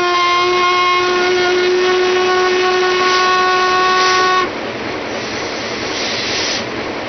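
Steam locomotive train at Kežmarok sounding a loud steady steam whistle for about four seconds, followed by a rushing hiss of steam, close and strong.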